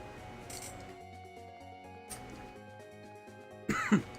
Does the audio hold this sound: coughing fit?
yes